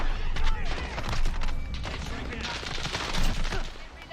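Gunfire in a Call of Duty match, rapid bursts of automatic fire and scattered shots cracking loudly in quick succession, with a voice talking over the shooting.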